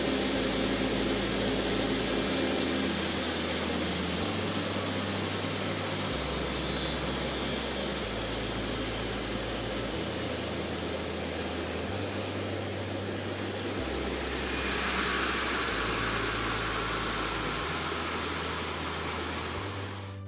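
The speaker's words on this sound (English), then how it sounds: "during the engine shutdown sequence, you may hear a pressurized air noise" A CFM LEAP-1B jet engine on a Boeing 737 MAX lets out a steady pressurized-air hiss during shutdown. The hiss stays constant for about twenty seconds over a low, pulsing hum, then brightens slightly near the end.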